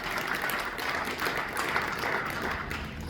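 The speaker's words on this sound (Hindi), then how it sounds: "आप जमकर ताली बजाइए" Audience at a theatre drama performance applauding steadily, a dense continuous wash of many hands clapping at moderate volume for the whole stretch with no clear pauses.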